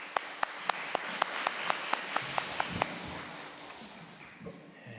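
A church congregation at a Sunday morning service at an air force base church in Korea claps in an even, rhythmic beat, the fairly faint claps carrying on for about three seconds before fading out.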